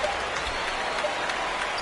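Steady broadband crowd cheering and applause in an NBA 2K25 basketball game, a continuous roar filling the whole moment at even loudness with no clear breaks.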